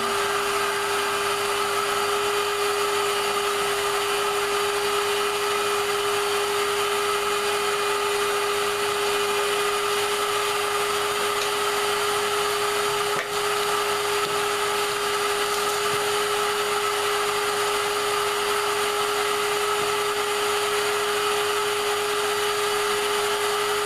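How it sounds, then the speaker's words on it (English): A vacuum cleaner runs steadily and loudly throughout, a continuous whirring motor drone with a strong hum, used for clearing up an untidy work table. "This is a vacuum cleaner."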